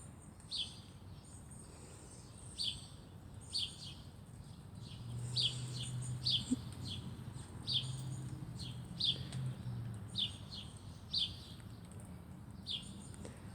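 Small birds chirp near a backyard bird feeder, short sharp calls repeating in bursts at a moderate distance over low outdoor ambience, no talk.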